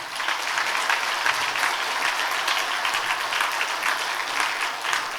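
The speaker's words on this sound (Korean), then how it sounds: "큰 박수 부탁드립니다." At a church anniversary ceremony honouring long-serving members, a congregation applauds steadily, a dense and loud wash of clapping that holds evenly from start to finish with no speech over it.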